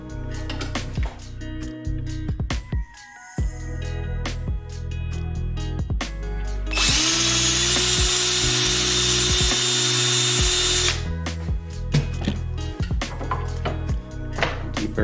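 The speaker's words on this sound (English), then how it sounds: "Go ahead and deburr this a little bit so I don't scratch the back side of the part I'm attaching it to." A part from a Sonex aircraft kit has a drilled hole deburred with a power tool. Short bursts of whirring are broken by clicks and handling noises, and a longer steady high-pitched spin runs through the middle.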